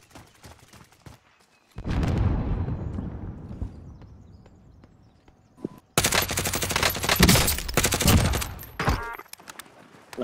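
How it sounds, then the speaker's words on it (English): Gunfire in the video game Call of Duty Warzone, with a loud burst of shots followed by a decaying echo, then a second dense volley of rapid automatic fire that lasts several seconds before tapering off. "Shots from behind me."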